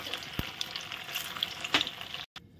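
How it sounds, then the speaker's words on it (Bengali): Pieces of homemade paneer, made with cabbage, fry in hot oil with a steady, quiet sizzle, broken by a couple of sharp clinks, and the sound drops out briefly near the end. "পনিরের পিসগুলো এবার ভাজা কত সুন্দর হয়ে গেছে না"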